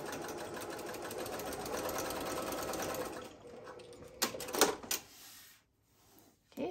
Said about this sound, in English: So let's just do a nice top stitch here.